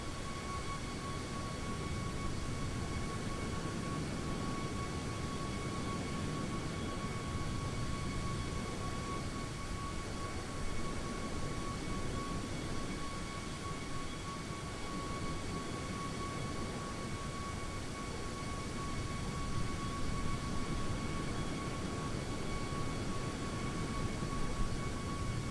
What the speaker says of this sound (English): And this is also a soft field takeoff too, but a soft short field takeoff.